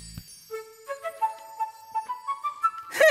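A cartoon magic whistle plays a rising run of clear, flute-like notes, one after another, ending in a sudden brighter burst.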